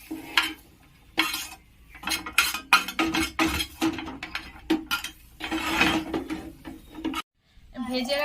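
Mustard seeds are pounded in a metal mortar and pestle for a coriander leaf pickle, with close, irregular metallic clinks and knocks repeating over several seconds and a brief pause near the end.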